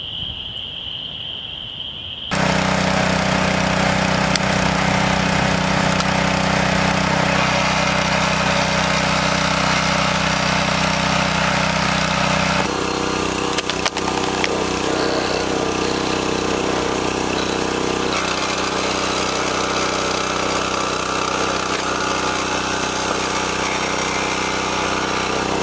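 Lawn mower engine at a spring farmhouse starts after a short quiet lead-in, then runs steadily and loudly at close range with a constant mid-pitched drone and small shifts in pitch, no talking.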